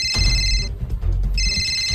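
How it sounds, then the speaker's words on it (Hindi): A mobile phone rings in a repeating electronic tone that drops out briefly midway and then resumes, steady and fairly loud over a low background rumble, with no voices. "तभी उसका फोन भी बजने लगा।"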